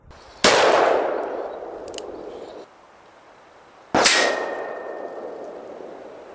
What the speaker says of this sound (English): So 90 yards, Taurus 692, 357 magnum.